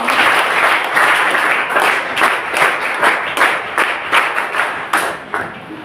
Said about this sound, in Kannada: ಜೋರಾದ ಚಪ್ಪಾಳೆ ಮೂಲಕ ಸ್ವಾಗತಿಸುತ್ತೇವೆ